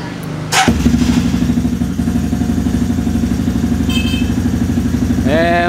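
A cold motorcycle engine fitted with an Accent Wire ignition coil wire catches with a sharp burst, then runs at a steady rhythmic idle close by. It is loud and even, with brief high whines near the end.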